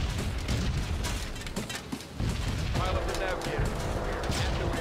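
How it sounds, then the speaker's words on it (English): Anti-aircraft flak bursts around a B-17 bomber in the game B-17 The Mighty 8th, rapid rattling detonations over a constant engine drone, loud and close, with a voice talking over it. "here comes the flak again"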